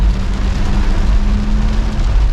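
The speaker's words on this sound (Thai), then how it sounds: "ฝนตกหนักมากครับ" Heavy rain pours down steadily on a flooded city road near a bridge, a loud dense hiss with a constant low vehicle hum underneath and no pauses.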